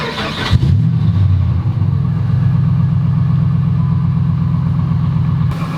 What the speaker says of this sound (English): the one thing this truck needs more than anything though is a louder exhaust